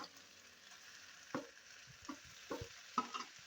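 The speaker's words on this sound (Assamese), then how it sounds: "এতিয়া ৰঙালাওখিনি দিছোঁ, এয়া দি পেলাই এইখিনি ধুনীয়াকৈ ভাজিম" Spices and ingredients frying in a pan with a soft, steady sizzle, broken by several faint scraping stirs and light clinks, quiet and close with no talking.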